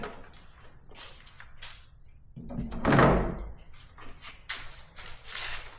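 A BMW pannier is fitted onto the receiver mounts of an R1300GS motorcycle, giving a few close plastic knocks and scrapes and then one firm thunk as it seats, with quiet shuffling around it.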